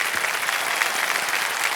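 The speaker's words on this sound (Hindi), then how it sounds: "तालियों के साथ आपका एक बार फिर स्वागत करते हैं।" Studio audience applause on the KBC India game show, a dense, even burst of many people clapping, loud and steady throughout with no voices over it.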